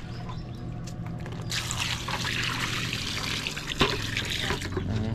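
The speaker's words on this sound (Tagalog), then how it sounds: "Lagyan ng tubig, Ari Axel, kunti." Water is poured into a container while cooking outdoors in the countryside, a steady close trickle that swells into a fuller splashing pour, with a low hum beneath and a brief knock near the end.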